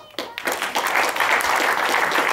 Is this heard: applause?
yes